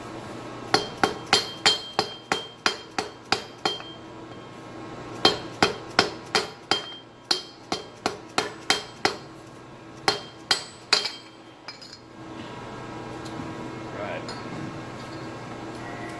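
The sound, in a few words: hammering on a piece of aluminum pipe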